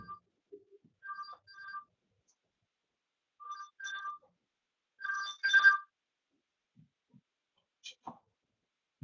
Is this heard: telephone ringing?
yes